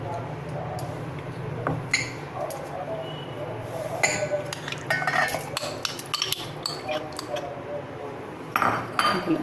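A spoon clinks repeatedly against a glass or jug while two spoonfuls of sugar go into a mango milkshake with almonds and cashews, in a series of bright, close taps over a faint background hum.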